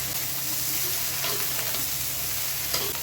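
Cauliflower and potato pieces fry in a pan while being stirred: a steady close sizzle with soft scraping and a sharper clack of the utensil near the end, no talking.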